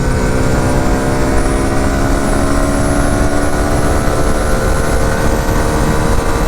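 A 2023 Hero Xtreme 160R 4V BS6 motorcycle roars at high revs during a top speed run, a loud, steady, close engine drone with rushing wind and no pauses.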